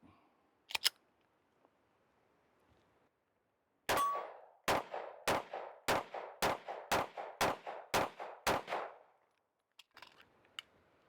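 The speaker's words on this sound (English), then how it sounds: "let's put the first couple rounds through this pistol and just see how it shoots" An H&K CC9 pistol fires its first rounds at an outdoor range: two sharp shots, then a quick run of about nine evenly spaced loud reports with short ringing tails, followed by faint clinks.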